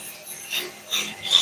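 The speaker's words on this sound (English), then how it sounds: "I will have some hand sanding to do before it's all done" Three or four slow, rasping strokes of sandpaper rubbed back and forth against wood, close up, with no voices.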